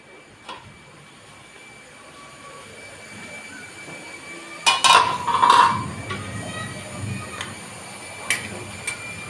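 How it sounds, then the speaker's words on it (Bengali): Lid set onto a cooking pot, a brief clatter and clank of metal in the middle, then quieter scrapes and a faint hum in a dim kitchen. "এখন আমি একটা ঢাকনা দিয়ে দেব, ভালো করে কষিয়ে নেব।"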